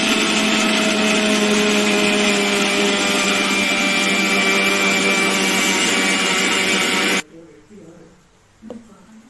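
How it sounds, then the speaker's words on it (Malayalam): A kitchen mixer grinder jar grinds spices in a loud, steady whine for about seven seconds, then cuts off abruptly, leaving faint household sounds. "ഇതെല്ലാം കൂടെ മിക്സിയുടെ ജാറിലേക്കിട്ട് ഒന്ന് നന്നായിട്ട് പൊടിച്ചു കൊടുക്കും."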